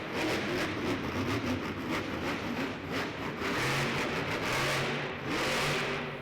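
Monster truck engine at a Monster Jam arena show, loud and continuous, with repeated revving surges and throttle swells against a steady wash of arena noise throughout.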